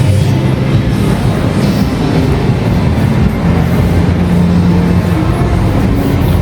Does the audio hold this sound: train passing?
yes